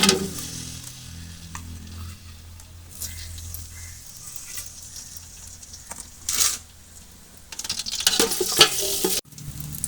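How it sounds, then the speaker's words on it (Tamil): Cinnamon and cloves drop into hot oil for a biryani and sizzle with a steady frying hiss close by. The crackle flares up in louder bursts toward the end. "இப்போ நாங்கள் இந்த பட்டை லவங்கம் எல்லாத்தையும் போடுவோம்."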